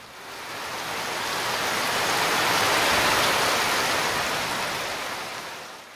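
Rain falling in a dense, even hiss that swells gradually to a peak in the middle and then eases back down over six seconds, with no voices.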